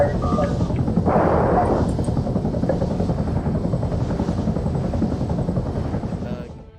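A helicopter in the video game Arma 3 makes a steady, loud rotor and engine drone that holds for several seconds, then fades at the end, with a brief burst of other noise near the start.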